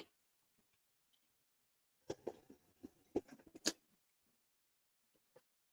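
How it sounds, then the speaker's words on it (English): Close, quiet wet slurps and smacking sounds of ramen noodles being eaten in a short burst, with a few isolated faint clicks before and after in near silence. "It's the proper way to eat ramen by slurping it."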